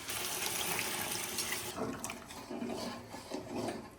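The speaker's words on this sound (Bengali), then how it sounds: "এবারে মটনগুলো যেসব মশলা দিয়ে সেদ্ধ করে রেখেছিলাম সেই জলটা এবার দিয়ে দেবো" Spiced mutton boiling water poured into a cooking pot with potatoes, a loud rushing splash for under two seconds that then drops to softer, uneven trickling and bubbling.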